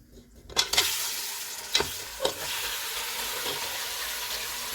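Whole spices fry for Mughlai mutton korma in hot oil and ghee, with a few sharp crackles and spits at the start. A steady, moderate sizzle then carries on alone.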